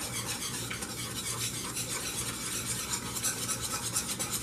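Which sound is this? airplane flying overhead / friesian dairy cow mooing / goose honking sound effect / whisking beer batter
whisking beer batter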